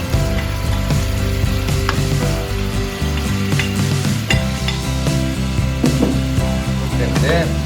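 Ground spices, blended into a paste, frying in a saucepan, a loud steady sizzle with scraping stirs and occasional clinks of a utensil against the pan, close up with no talking.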